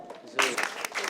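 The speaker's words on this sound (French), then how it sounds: "Les mamans des perdants applaudissent" Brief scattered applause from mothers at a children's talent contest, light clapping mixed with murmuring voices for about a second.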